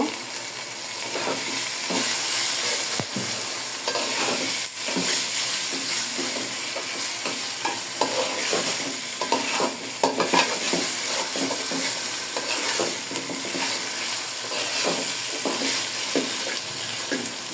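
Ginger garlic paste fries in a pan with a steady, close sizzle while a spoon stirs and scrapes in repeated strokes, with no one talking.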